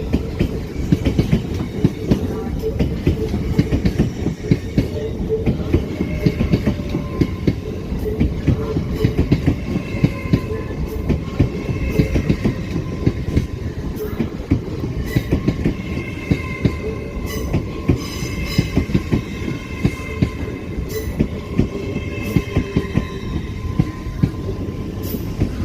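A Class 801 train runs through Newcastle station with a loud, continuous rumble and rapid rhythmic clatter of wheels over rail joints. Occasional squeals and metallic screeches rise and fade over roughly twenty-five seconds.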